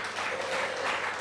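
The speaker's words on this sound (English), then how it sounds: "So one more time, a round of applause" Audience applause at a healthcare conference in Nigeria, a steady dense wash of clapping that holds evenly throughout, fairly distant and without voices.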